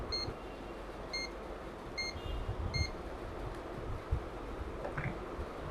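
Multimeter set to continuity mode beeps while probing a MOSFET on an e-rickshaw/e-bike controller under repair: four short, evenly spaced high beeps over a steady hum of workshop noise, with faint handling clicks.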